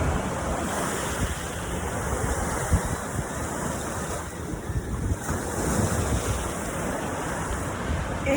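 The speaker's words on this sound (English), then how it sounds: "I love the ocean." Ocean surf rolls continuously onto the shore at Panama City Beach, a close, steady rush of breaking waves mixed with gusty wind buffeting the microphone.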